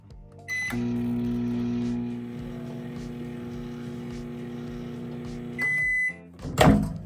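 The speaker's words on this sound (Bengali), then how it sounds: "এক মিনিটের জন্য আমি গরম করব তেলটিকে" Microwave oven running steadily for a minute-long heat of mustard oil, a loud continuous hum with a beep near the end and a door click, no talking.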